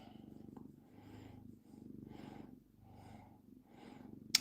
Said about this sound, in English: You got the purr on, Maxie boy.